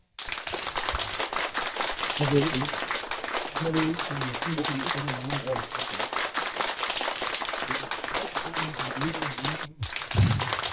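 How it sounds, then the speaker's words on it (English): Audience clapping during a ceremonial book signing, a sustained crackle of hands lasting about ten seconds while a voice speaks over it, ending in a brief pause before a louder final burst. "And we will clap until it's done. Let's start clapping."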